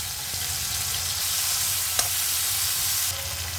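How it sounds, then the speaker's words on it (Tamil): Chopped ivy gourd stir-fried in a simmering gravy for roti, giving a steady close sizzle and frying hiss throughout, with one brief clink of a spoon near the middle and no talking. "இப்போ நறுக்கி எடுத்துருக்க கோவக்காயை அது கூட சேர்த்துக்கலாம்"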